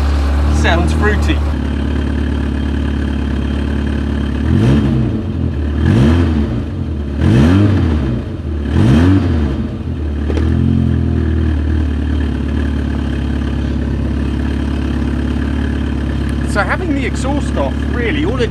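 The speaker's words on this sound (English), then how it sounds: "Exhaust off, really all it does is give it a bit more bass." Close, loud Citroen GTI 16V engine running with no exhaust fitted, idling before four or five quick throttle blips rise and fall in a row, then dropping back to a steady idle.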